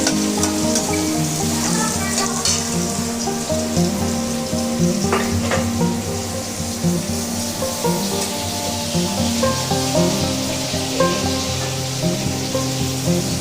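Bay leaves, panch phoron and dried red chillies fry in hot oil, a loud, steady, close sizzle with crackling spatters and occasional stirring scrapes running throughout.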